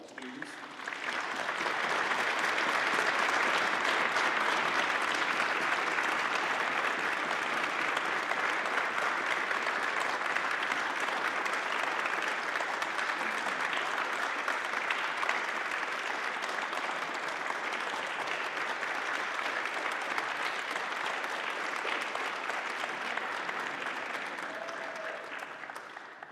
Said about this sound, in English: give them a round of applause, all the students